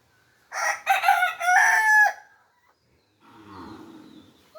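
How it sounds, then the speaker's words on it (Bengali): A rooster gives one loud, close cock-a-doodle-doo crow among a small flock of backyard chickens, then softer clucking and low farmyard sounds follow. "এখানে মোট 5টা মুরগি আছে, আর বাগানে খেতে গেছে বাকিগুলো।"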